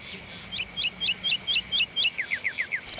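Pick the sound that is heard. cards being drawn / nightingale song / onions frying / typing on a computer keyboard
nightingale song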